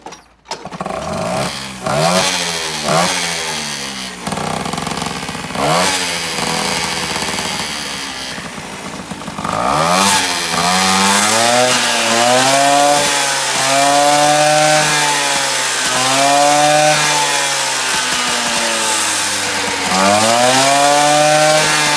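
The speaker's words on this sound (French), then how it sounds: "Donc je fais monter la mobilette dans les tours." Moped fitted with a Giannelli Carré d'As exhaust revving hard, its raspy two-stroke buzz climbing and falling through repeated pitch sweeps, loud and close throughout with no talk.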